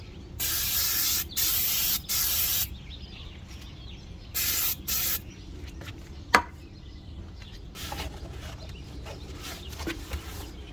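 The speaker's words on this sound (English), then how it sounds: "Give it a nice spray." Several short bursts of aerosol spray paint hiss onto a Mercury outboard tilt and trim unit, each lasting about a second, with a single sharp knock partway through and quiet pauses between.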